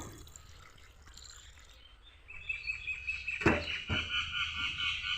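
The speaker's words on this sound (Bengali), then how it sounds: "এই জলটা এখানে দিয়ে দেব। আর একটু জল দেব।" Cold water splashes into a bowl of milk cream during village-style ghee making, starting quietly and then turning into close, bright splashing and dripping with two sharper splats in the middle.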